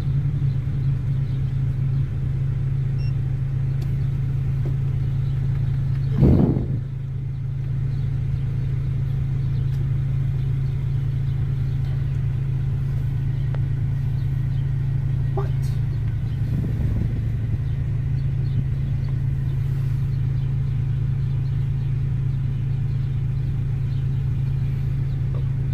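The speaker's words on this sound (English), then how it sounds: "Okay, this is a really old car wash." Old automatic car wash running with a car inside: a steady low mechanical hum and rumble continuing throughout, with a couple of brief thumps and knocks along the way.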